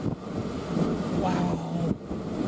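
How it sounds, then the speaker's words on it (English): Winter windstorm wind roars across Donner Summit near power lines, a dense continuous rumble buffeting the microphone, with a voice speaking over it. "you guys can hear that wind just roaring"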